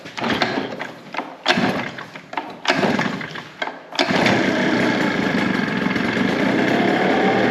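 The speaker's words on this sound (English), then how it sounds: "We got the throttle up. Let's give it a couple pulls." A Tomahawk backpack fogger's small engine is pull-started: several short bursts of cranking and sputter, then it catches and runs at a steady, loud high-pitched idle for the rest of the clip.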